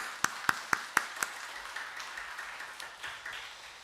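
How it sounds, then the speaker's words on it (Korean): A church congregation at Sunday worship claps in unison, with five sharp, evenly spaced claps followed by softer, scattered applause that fades away in a reverberant room. "다시 한번 건강하시라고 박수하겠습니다."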